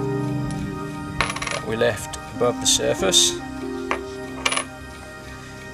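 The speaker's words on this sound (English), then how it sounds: "what about the coins in my pocket?" Coins from a cenote are handled and dropped, giving a series of bright metallic clinks and jingles spread through the middle of the passage, close by, while a person talks throughout.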